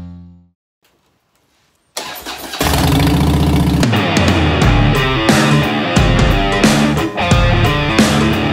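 An aircraft engine starting at a cruise-in car and motorcycle show: a short sputter after a quiet pause, then a loud, steady rumbling run that carries on close by, with no talking.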